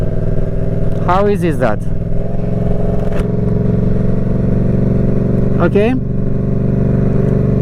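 Motorcycle engine idling steadily while a learner rides, with a brief rising rev at around one second and another near six seconds as the throttle is opened after gear changes; someone talks over it.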